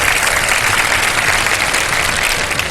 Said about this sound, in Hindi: जरा भरपूर तालियों से मुझे बताएं कि हम आगाज